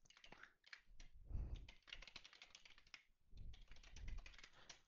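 Computer keyboard typing, a quiet run of quick, irregular key clicks in close bursts with short pauses, with no voice over it.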